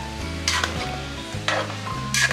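Banana and taro being stirred in a pot for binignit, with three bursts of scraping and sloshing against a steady low hum and faint sizzle, loud and close, no voices.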